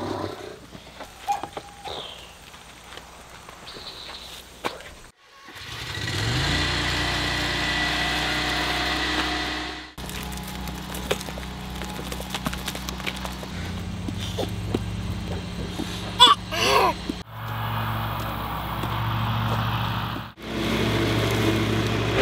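A mower runs on a farm pasture after sheep have been moved off, producing a steady engine drone in separate stretches that are interrupted by abrupt cuts to other outdoor sounds.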